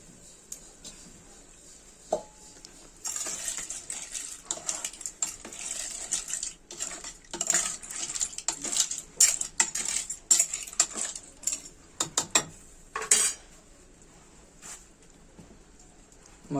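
Clam shellfish tipped into a pot of radish and potato curry: a dense rattling clatter of shells hitting metal, with clinks and taps spread over several seconds before things go quiet, close and fairly loud.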